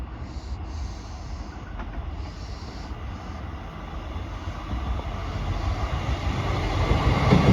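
An East Midlands Railway service from Norwich to Liverpool Lime Street rumbles through a station, a broad roar that builds steadily louder as it approaches, with a faint high whine above.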